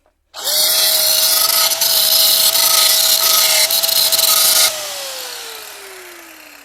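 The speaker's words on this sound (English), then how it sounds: "take the angle grinder and get some of this paint and grease off here so we can put in a new plate" An angle grinder stripping paint and grease from a brake part on a Saab 96 two-stroke runs loud and steady for about four seconds, then spins down gradually after release.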